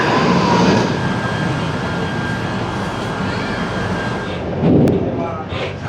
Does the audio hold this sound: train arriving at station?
yes